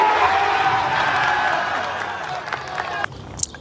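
A cinema audience at a screening of A Minecraft Movie, a crowd roaring and cheering in a broad sustained wash that fades slightly, with a few scattered claps and shouts toward the end.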